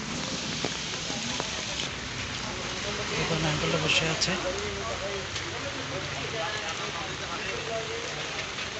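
Steady morning rain patters on a road beside the Dhaka–Chittagong highway, a dense, even hiss that runs throughout while someone talks over it.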